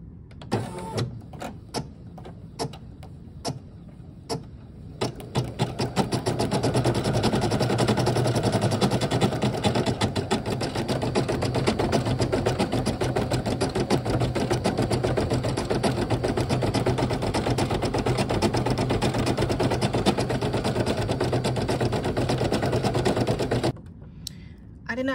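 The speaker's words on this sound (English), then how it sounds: "have the embroidery machine going so they can at least see" An embroidery machine runs a long stitching pass: after a few seconds of sparse clicks and taps, a steady, dense mechanical rattle of rapid needle strokes sets in and continues evenly until it stops near the end.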